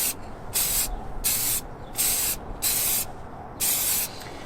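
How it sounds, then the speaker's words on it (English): Five short bursts of hissing aerosol spray from a shaken can of clear coat being applied to Volkswagen GTI brake calipers, each lasting about half a second with brief pauses between, close to the microphone. "Shake up the can and spray again."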